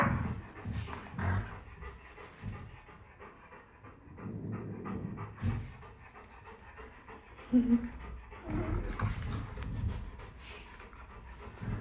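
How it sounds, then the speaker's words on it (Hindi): Golden retrievers play-fight at close range, with heavy rhythmic panting, low growls and a brief whimper over several seconds, and faint human voices now and then in the background. "एक दूसरे को गुर्राते हुए"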